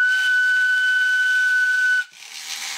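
A loud, steady, pure whistle tone drives a compact Helmholtz resonator snake charmer toy, holding for about two seconds before cutting off into faint hiss and rustle.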